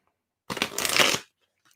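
Tarot cards shuffled by hand in a single brisk riffle lasting under a second, close and clear with no voices over it.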